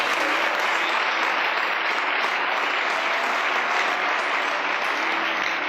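A church congregation at a revival meeting claps loudly and continuously, a dense, even wash of many hands applauding together for several seconds.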